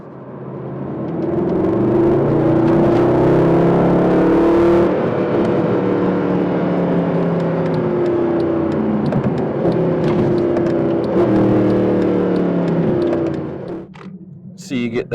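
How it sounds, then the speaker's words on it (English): Mercedes SLR or SLS supercar engine running loud and close with sustained revs, rising and falling harmonic tones through rev-matched downshifts, with a sharper burst near the end. "So you get that nice rev match downshift."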